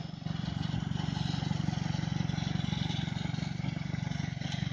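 A restored Tracker lawn tractor engine running steadily nearby, a smooth, even, low chugging putter with no talk.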